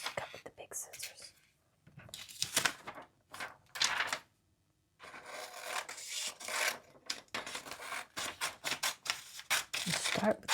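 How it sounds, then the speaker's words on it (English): Big scissors snip through magazine paper in close, crisp bursts with rustling and handling sounds, separated by pauses, while a soft whispered voice talks between cuts. "Cut with the big scissors."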